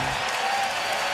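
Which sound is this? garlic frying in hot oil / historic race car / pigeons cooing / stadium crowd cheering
stadium crowd cheering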